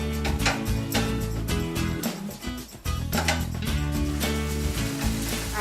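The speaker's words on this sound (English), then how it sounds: "this chorizo's, you know, sizzling away nice and well" Chorizo broken up and sautéing in a pan, a continuous loud crackling sizzle close by, steady throughout with brief dips as the meat is stirred.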